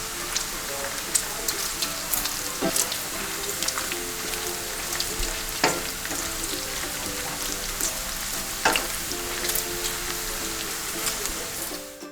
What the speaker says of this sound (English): now we're gonna go ahead and put into our skillet, so that way we're gonna cook them into crispy